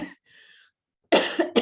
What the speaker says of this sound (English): I never cough, so I'm so sorry.